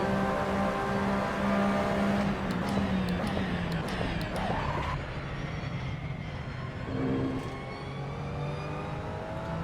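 A 2017 Porsche 911 RSR racing engine at Virginia International Raceway in a racing video game, a loud continuous drone that shifts pitch as the throttle is eased and reapplied, with a brief rising whine midway.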